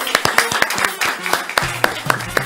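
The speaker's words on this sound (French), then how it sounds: "Applaudissements s'il vous plaît." Audience applause at a French-language school quiz contest, distinct hand claps in an uneven rhythm from a small nearby group, with a voice speaking over the last part.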